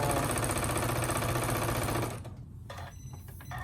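A sewing machine runs fast and steady stitching a thick quilted hot pad seam, a loud rapid mechanical whir for about two seconds before stopping, followed by quieter handling clicks and rustles.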